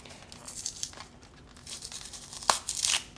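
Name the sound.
tearing open the seal of a novelty cassette package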